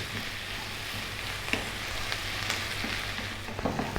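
Onions frying in butter in a pan with salt and pepper, giving a steady close sizzle with a few small pops and stirring scrapes and no voices.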